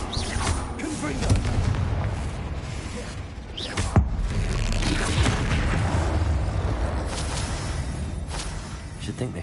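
A Confringo blasting spell explodes in the Hogwarts Legacy game, a single sharp boom rising out of dense, rumbling game noise, with a voice speaking in the mix.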